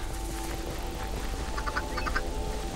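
A duck in the video game Minecraft Dungeons gives a few short quacks in quick succession, moderately loud over a steady game background hum.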